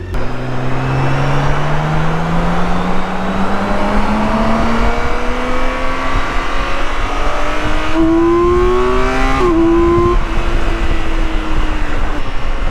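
A BMW K1600B motorcycle with a Stage 1 tune revs loudly up close, engine pitch climbing steadily with intake roar, then dipping and holding before falling back.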